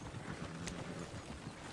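Horse hooves clop steadily in Red Dead Redemption 2, a continuous rumbling beat of several horses under a dense, loud wash of game noise.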